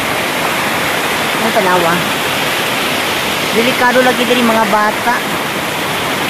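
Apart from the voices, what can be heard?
flood water rushing in a stream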